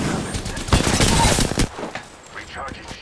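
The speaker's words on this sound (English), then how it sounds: "Opening fire." Automatic weapon fire in the shooter game Apex Legends comes in rapid close bursts, heaviest through the first second and a half and then thinning out, with game voices calling out over it.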